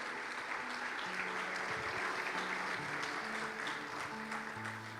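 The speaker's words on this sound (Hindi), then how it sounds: "आप सबके लिए जोरदार तालियां आप खुद बजा दें" Steady congregational applause fills a church during a Christmas sermon, a dense continuous wash of clapping that runs the whole time, with faint low musical tones and a brief voice underneath.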